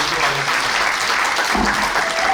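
Dense, steady applause from an indoor audience welcoming a trot singer at a conference hall event, continuous and fairly loud with no pauses.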